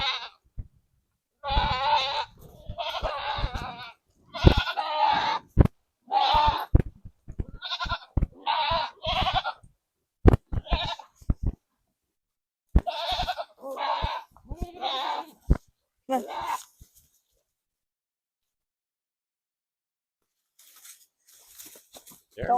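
Goats kept for milk on a small farm bleat again and again, loud and close, in short, wavering cries spread across the stretch before a quiet tail.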